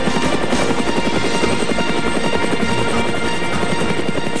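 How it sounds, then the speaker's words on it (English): A rescue helicopter flying close overhead, its loud rhythmic rotor chop and turbine whine continuous and dominant throughout, with no voices. "the chopper returns one more time for the last crewman"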